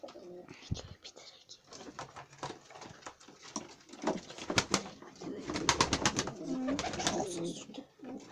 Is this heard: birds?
yes